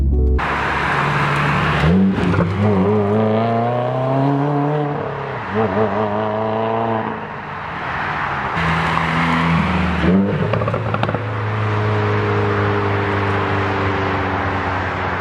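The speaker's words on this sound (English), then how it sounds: "we're gonna go from fourth, and we're gonna go jump right into second" Manual car engine revving and blipping through a rev-matched downshift from fourth straight into second gear, with rising and falling engine pitch sweeps and throttle blips, loud and close, no talk.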